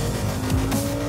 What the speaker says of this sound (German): bearbeitet das rechte Pedal und fegt mit dem getunten M6 über den Asphalt